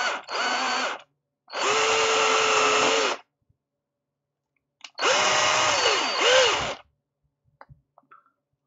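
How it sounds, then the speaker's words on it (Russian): A power drill bores a hole in an Axial SCX10II 1/10-scale RC crawler: three close, loud whining bursts of drilling separated by short pauses, with the motor pitch sagging under load in the last run. "Теперь сверлим вот сюда."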